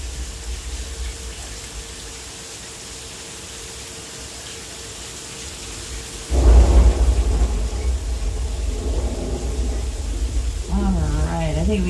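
Staged rain effect on a Universal Studios Hollywood tour set: a steady hiss of falling water that swells into a heavier gush partway through, with a low rumble and voices talking over it.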